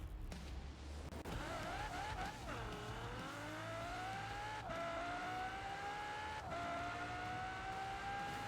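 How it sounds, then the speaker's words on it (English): A Ferrari race car in a racing video game accelerates, its engine tone sweeping upward through gear changes with a couple of shifts, steady and fairly quiet with no voices. "acceleration in the Ferrari is just wild."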